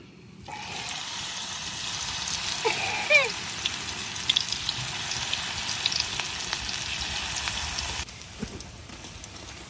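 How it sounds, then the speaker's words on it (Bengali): Malabar spinach fritters (pakoras) deep-fry in hot oil with a dense, steady sizzle and crackle close by, cutting off sharply near the end; a few faint clinks of a utensil break through. "আমার সবগুলো বড়াই ভাজা শেষ।"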